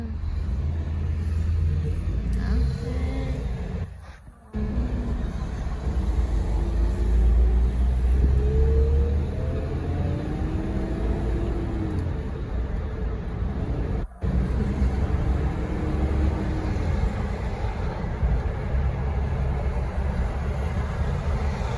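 Busy road traffic on a street in Bulgaria, with a steady low rumble of passing cars and engines droning continuously for about twenty seconds, some vehicles accelerating, with no talking.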